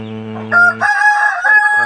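Aseel chickens at close range: a loud rooster crow rises in strained, harmonic-rich tones across nearly two seconds, with shorter clucking notes around it and no talking.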